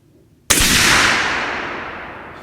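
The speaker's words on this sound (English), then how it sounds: "All right, 3rd shot." A single loud rifle shot from a relatively light 7mm PRC rifle cracks after a brief quiet. Its blast rolls off in a long, fading echo.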